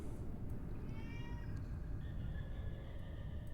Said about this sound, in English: Yeah, that's the cat you keep hearing.